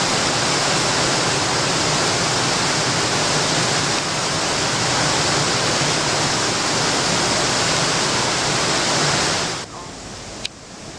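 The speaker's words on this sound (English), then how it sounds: "you can see the river flowing. And it flows out into the sea." A swollen river rushes during Hurricane Tomas on St. Lucia, carrying mud flow toward the sea, as a dense, constant roar that fills the scene, with a brief break and a sharp knock near the end.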